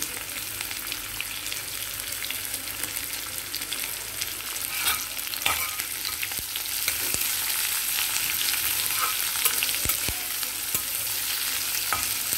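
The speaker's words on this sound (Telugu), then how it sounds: "ఉల్లిపాయలు వేసి చక్కగా వేగనివ్వాలండి." Onions, green chillies and curry leaves frying in a pan for a bottle gourd stir-fry, giving a steady close sizzle with occasional sharp taps and stirring scrapes, no talking.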